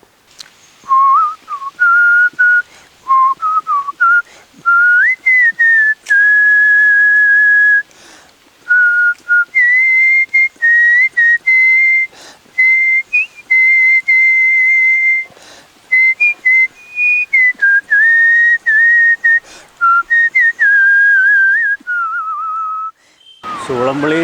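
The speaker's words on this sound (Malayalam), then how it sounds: "ചൂളം വിളിയിലൂടെ ഈ പാട്ടിൻ്റെ വിസ്മയം തീർത്തത് എങ്ങനെയെന്ന്" A man of Orcha in Kasaragod whistles a whole song. The melody is clear and loud, close to the listener, and comes in phrases broken by short breaths and pauses, with no talking over it.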